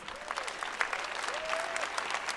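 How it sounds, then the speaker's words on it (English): Steady applause from a crowd at the EA press conference, moderately distant and even, continuing throughout. "Let's give them all a round of applause."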